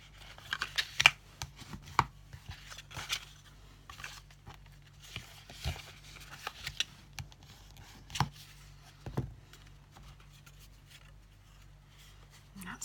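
Scored cardstock being folded and burnished for a Stampin' Up! slider box, heard as sparse soft taps, scrapes and rubbing strokes scattered across the stretch, close but quiet, with a faint steady hum underneath.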